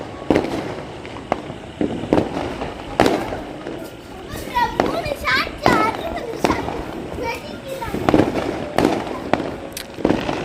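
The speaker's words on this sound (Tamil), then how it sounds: "நம்ம வீட்டு நடுவுல அங்கே வந்து ஷார்ட்ஸ் வச்சுருக்காங்க, எப்படியும் ஒரு 60 ஷார்ட்ஸ்ன்னு நினைக்கிறேன், வெடிச்சுக்கிட்டே இருக்கு." Diwali fireworks at a new house, a roughly 60-shot cake in the middle of the street, bursting in rapid repeated cracks and whistling shots over about ten seconds while children's voices and chatter carry on nearby.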